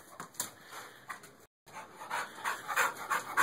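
A pitbull pants hard and fast up close after chasing a ball, its breaths rising and falling in a rapid rhythm and growing louder toward the end, with a brief gap of silence partway through.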